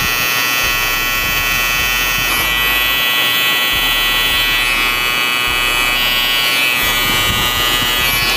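Electric hair clippers buzz up close while sharpening a hairline and widow's peak on coarse hair, a steady loud motor drone broken by short on-off pulses as the blade is pressed and lifted.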